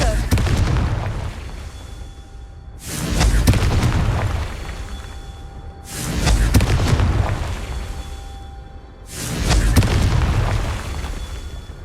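Confringo fire spells in Hogwarts Legacy go off as three loud booming blasts, evenly spaced, each with a long rumbling decay, while a voice speaks between them.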